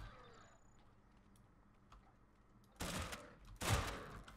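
Gunfire in the survival game Scrap Mechanic at close quarters: two loud, sharp shots about a second apart near the end, after a stretch of quiet background sounds.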